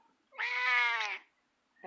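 A cat meows once, loud and close, a drawn-out tonal cry of about a second in a quiet room, followed by a brief soft knock.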